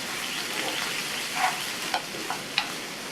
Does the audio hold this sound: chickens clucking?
no